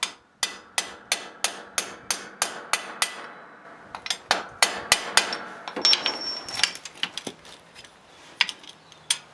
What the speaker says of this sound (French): Alors on va essayer de taper sur ce qui reste.